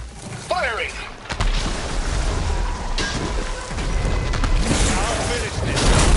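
Gunfire crackles in a Horizon Forbidden West battle, a dense, sustained burst of shots and impacts layered over rumbling, rain-like noise and mechanical clatter, loud and close throughout, with voices calling out under the action.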